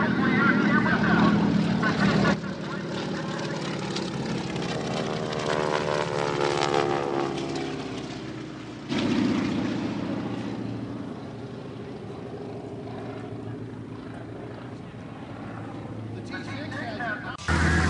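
A Yak propeller aircraft performs at an air show, its engine droning loud and steady, then shifting in pitch as it passes, while a commentator talks over it.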